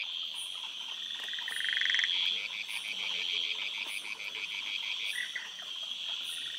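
A dense nighttime chorus of at least nine frog species on a Coorg plantation, with overlapping trills, croaks and chirps calling steadily together, some rising loud then easing.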